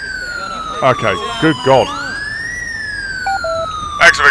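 Police motorbike siren in GTA 5 wailing loud and steady throughout, its pitch sweeping then holding high, with short speech bursts over it near the start and end.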